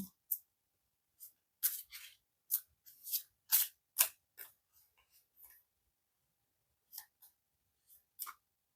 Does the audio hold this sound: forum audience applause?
no